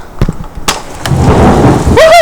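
Thunder booms and rumbles loudly during an East Tennessee thunderstorm, a sharp crack followed by a swelling roll with rain noise underneath, ending on a brief whistling sound.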